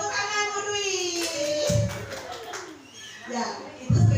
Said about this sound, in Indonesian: Tepuk tangan Bu Dwi.